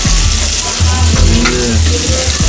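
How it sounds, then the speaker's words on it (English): Fish frying in oil, seasoned and coated in white flour, in a Trench Town kitchen in Kingston. The sizzle is loud, close and constant, with no voice heard. "With some French fried fish, you know."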